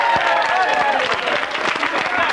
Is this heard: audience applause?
yes